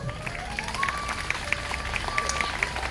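An outdoor festival audience at the TD Toronto Jazz Festival applauds its sponsors, a steady mass of scattered handclaps with a voice speaking over the top.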